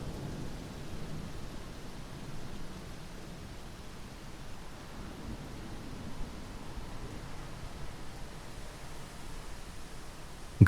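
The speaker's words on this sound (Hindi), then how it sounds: "बारिश में मत भीग।" A steady wash of rain and low rumbling thunder runs as a horror-story sound effect, forming an even, broadband hiss at moderate level throughout with no distinct rolls or voices.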